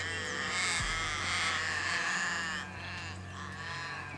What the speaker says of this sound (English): All the crows are freaking out